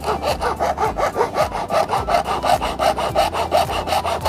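Steady back-and-forth sawing with a hand saw cutting the neck of a plastic bottle, rhythmic rasping strokes about every quarter second, close and continuous throughout.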